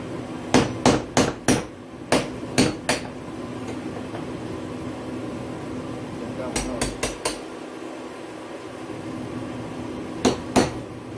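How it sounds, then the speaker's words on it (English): A sledgehammer strikes a fuel pump in sharp metallic blows. They land in quick bursts of two to four hits separated by pauses, loud and close, over a low background hum. "Probably should use my sledgehammer."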